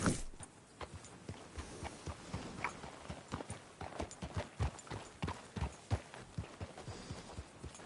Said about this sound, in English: good-looking horse there.